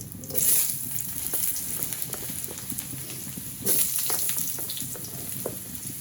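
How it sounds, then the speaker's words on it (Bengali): Potatoes added to hot oil with cumin tempering fry in a pan, producing a steady bubbling sizzle with short hissing bursts at the start and again midway, close and fairly loud, with no talking. "একটু জিরে ফোড়ন দিলাম জিরে ফোড়ন দেওয়ার পরে এখানে দিয়ে দেবো আলু"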